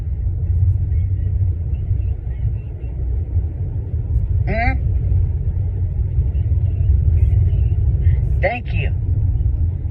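A car rumbles steadily while being driven to Food Lion, a constant low engine and road drone running throughout, with voices talking over it in the cabin.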